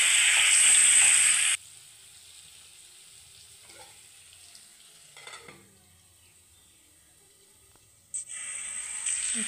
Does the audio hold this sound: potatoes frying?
yes